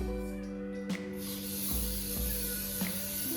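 A can of cooking spray hisses in one steady, continuous burst into a cast iron skillet, close by, with a faint click near the start.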